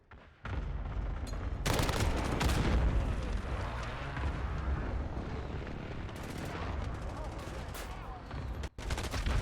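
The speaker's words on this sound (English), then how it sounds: "Friendly precision airstrike inbound." Explosions and gunfire from a precision airstrike in Call of Duty: Modern Warfare, a dense continuous barrage of booms and shots lasting several seconds, loud and close, with a brief drop in the middle.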